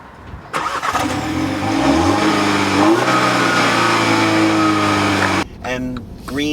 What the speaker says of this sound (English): All right, start her up.